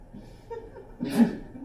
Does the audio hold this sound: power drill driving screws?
no